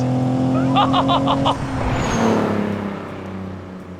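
Close engine revving of a BMW E46 330Ci with a purely mechanical rising whine, steady rumble underneath, fading slightly toward the end.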